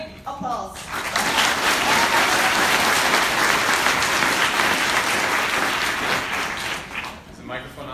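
A crowd applauds at a vegan festival keynote, a full burst of clapping that swells in after a brief pause, holds loud and steady, then tapers off near the end.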